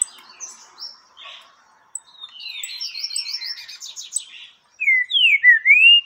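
Peruvian canaries kept as a breeding pair chirp and trill, with short high tweets and scattered calls building into a run of rapid warbling and bright, loud whistled phrases near the end.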